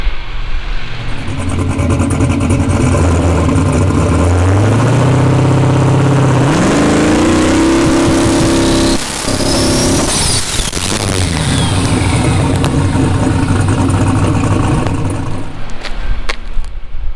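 A turbocharged car engine, its wastegate line newly moved to the top port, revs hard under rising boost toward about 20 psi; a loud, continuous engine note climbs and sweeps in pitch, close and unbroken with no talk.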